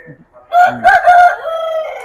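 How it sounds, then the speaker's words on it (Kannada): A rooster at an agricultural fair's poultry display lets out one loud, close, drawn-out crow that trails off, with faint clucking just before it. "ಆಲ್ರೆಡಿ ಕೋಳಿ ಜಗಳ ಸ್ಟಾರ್ಟ್ ಆಗಿದೆ"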